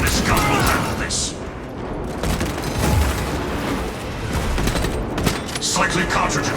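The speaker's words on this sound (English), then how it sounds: "My servo harness gun will handle this." A servo harness gun fires in Space Marine 2, a Techmarine battle on Absolute difficulty, with loud overlapping blasts and booms amid chaotic combat noise and mechanical clatter, and voices speak over the din.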